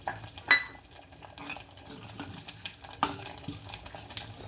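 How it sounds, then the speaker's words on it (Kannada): Asafoetida and mustard seeds sizzle as they hit hot oil and ghee in a pan for vegetable bisibele bath, a close, steady crackle with a few sharp utensil clinks and no talking. "ಇವಾಗ ಇಂಗು ಸಾಸಿವೆ ಹಾಕ್ತಾಯಿದ್ದೀನಿ."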